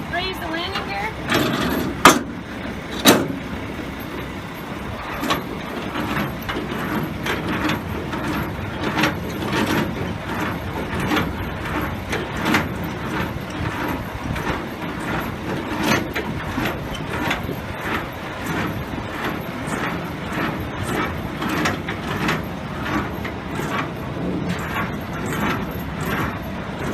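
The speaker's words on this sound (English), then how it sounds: "Then you need to raise the landing gear." Truck trailer landing gear being cranked up by hand during a Class AZ pre-trip inspection, a long run of repeated metallic clicks and clunks with an uneven, ratcheting rhythm, heard close over faint background noise.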